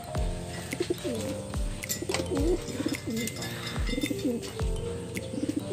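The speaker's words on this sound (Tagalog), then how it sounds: "kalapati lang yung inaalagaan mo dito" Pigeons coo repeatedly inside a loft kept by a young pigeon fancier, with several overlapping birds giving rolling, throaty calls in a steady rhythm, fairly close and clear against a low room background.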